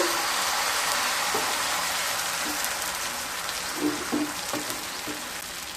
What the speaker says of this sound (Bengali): তেলটা গরম হয়ে গেলে ময়দার ব্যাটার দিয়ে দেব।